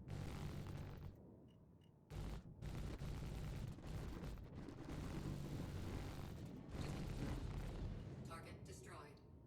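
Ship turrets in Star Citizen fire dense, booming volleys in the video game, heavy sustained blasts with a few short gaps, loud and close against a rumbling background.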